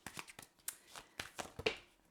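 Tarot cards being shuffled by hand, a string of soft, close riffles and slides that come in uneven bursts at low volume.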